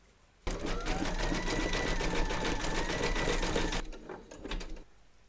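An embroidery sewing machine runs a dense black satin stitch around a music-bunting eyelet: a loud, steady, rapid needle rattle starts abruptly, holds for about three seconds, then breaks into slower, scattered stitching taps before stopping.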